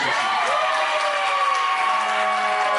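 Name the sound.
wedding guests applauding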